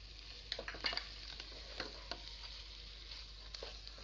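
Keema beef and bitter gourd fry in a pan with a faint, steady sizzle, while scattered soft taps and scrapes of stirring come through, and no one speaks.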